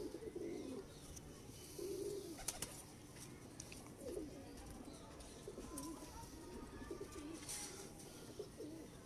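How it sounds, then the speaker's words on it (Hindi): Home-bred pigeons coo in soft, repeated low phrases close by, a handful of throaty calls spaced through a quiet background with faint scattered chirps and small clicks. "देखें इन कबूतरों की कैसे माशाल्लाह शानदार कबूतर हैं।"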